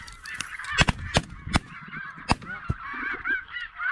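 Snow geese honk loudly and close by during a waterfowl hunt. A flock's calls overlap in a busy, irregular chorus of sharp honks.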